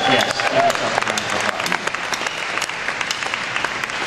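Sustained applause from a large audience at a company event, many hands clapping in a thick continuous roar for the full few seconds.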